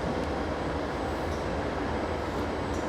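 Amtrak 579 passenger train passing slowly at Fullerton, a steady, dense rumble of wheels and rails at close range, continuous for the whole moment with no break.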